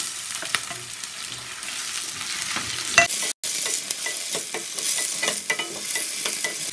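Tomatoes go into a pan of half-sautéed onions, giving a steady sizzle with a clattery stir scraped through it and a brief gap near the middle; no one speaks.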